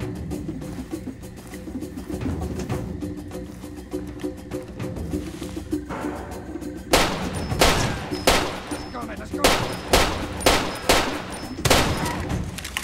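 Gunfire in the game Far Cry 2 arrives as a quiet ambient stretch, then a run of loud, evenly spaced shots in the second half, with a voice occasionally over it.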